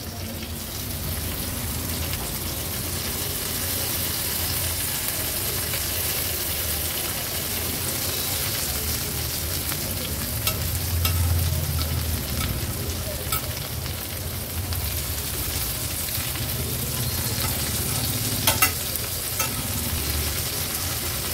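Prawns wrapped in banana leaf frying in a covered pan with a green masala, a constant close sizzle with occasional soft knocks and scrapes as the parcels are turned one by one.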